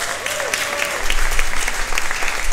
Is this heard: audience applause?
yes